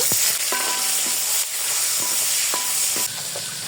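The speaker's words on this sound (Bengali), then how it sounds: "চিংড়ি মাছগুলো ভেজে নিব" Shrimp frying in hot oil in a home kitchen pan, a steady loud sizzle with bursts of crackling and stirring scrapes, with no talk.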